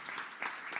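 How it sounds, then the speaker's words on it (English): Faint, brief clapping from an audience at a talk or presentation, a soft patter of hands heard from a distance. "an applause for them too"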